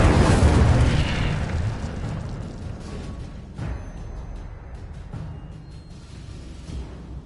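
An Incendio fire spell cast in the game Hogwarts Legacy, a loud whooshing fiery burst that swells and then fades into a rumbling tail with smaller pops.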